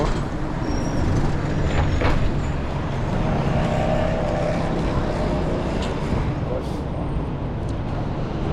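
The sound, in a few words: street traffic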